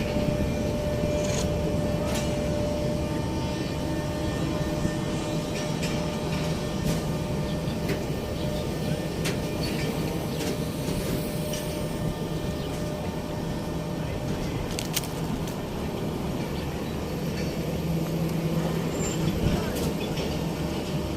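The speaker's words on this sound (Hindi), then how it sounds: "ये खानेवाल रेलवे स्टेशन से मूव होने लगी है मेरी ट्रेन।" The Pakistan Express pulls out of Khanewal railway station with a continuous low rumble of rolling rail cars and wheel noise, steady and moderately loud throughout, with faint clanks scattered over it.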